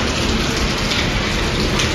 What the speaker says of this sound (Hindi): बारिश बारिश एकदम